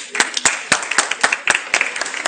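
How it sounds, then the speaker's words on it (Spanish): Scattered, uneven clapping from a small seated group at a talk on emotional intelligence, distinct individual claps close by, brief and loosely rhythmic. "Un aplauso a todos."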